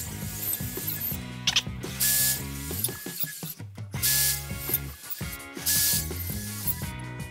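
Einhell 18 V brushless drill driver drilling at speed 1, a tonal motor whine stepping through pitches with short bursts of grinding and ratcheting, close and loud with brief pauses.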